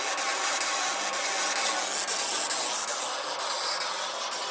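A steady, loud hissing buzz with a rasping, scratchy texture runs throughout, broken by faint regular ticks, as a 100W fiber laser engraves gear teeth into metal.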